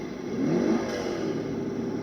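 Simulated engine revving from an ESS One sound system fitted to a Redcat Gen 8 RC car, a steady synthetic motor drone that swells briefly into a rev and then holds at a constant level, heard alone.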